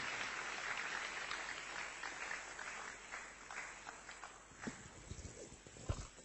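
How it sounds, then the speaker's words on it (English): Faint, distant audience applause at a broadcast media stakeholders forum in Nigeria, heard as a thin continuous patter that thins out, followed by a few louder scattered claps and knocks near the end. "Let's give a bigger round of applause to the DGNBC"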